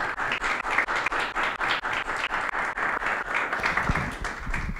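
Audience at an academic climate-infrastructure event applauding in memoriam of a professor, a dense, steady roomful of clapping that holds throughout without any voices.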